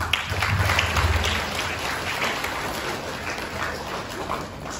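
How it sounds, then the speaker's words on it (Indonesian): Audience applause at an elementary school sixth-grade graduation ceremony, a diffuse sustained patter of many hands clapping heard at some distance in a large hall, moderately loud and gradually easing off. "Kita tepuk tangan dulu ya"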